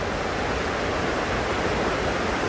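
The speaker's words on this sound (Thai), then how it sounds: "มาดูน้ำตกนะคะ" A natural forest waterfall roars steadily up close, a dense unbroken rush of falling water filling the whole moment with no talk.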